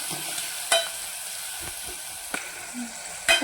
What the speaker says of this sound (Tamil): இப்போ சின்ன வெங்காயமும் தக்காளியும் ஒன்றா போட்டுக்கலாம். இந்த ரெண்டும் ஒன்றா வதங்கிடும்.